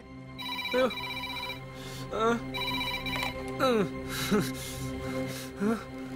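A telephone rings repeatedly in short tonal bursts at a steady rhythm, fairly close, with faint background noise between rings.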